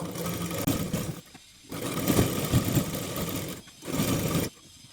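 A sewing machine stitches a sleeve onto a garment in quick runs, two loud bursts of rapid whirring broken by short pauses, close and without voices.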